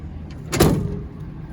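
Tailgate of a 2020 Ford F-250 Super Duty Tremor pickup with a spray-in bedliner and step bumper swinging shut, a single solid thump and rattle near the middle of a quiet outdoor moment.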